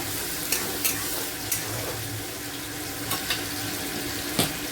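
Fish oil and onion fry in a pan with green chilies, making a continuous low sizzle with occasional soft clicks and taps from stirring, and no voices.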